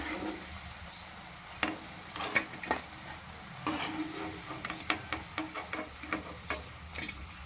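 Cabbage pakoda frying in hot oil, a soft steady sizzle with a series of light ticking stirs and scrapes growing more frequent toward the end.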